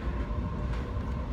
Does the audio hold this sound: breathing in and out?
no